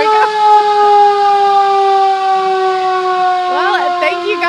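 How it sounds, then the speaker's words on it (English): Sirens sound in the Campbellsville area as a loud, steady, sustained wail that holds its pitch, then warbles up and down near the end. "we'll also hear the sirens at some point"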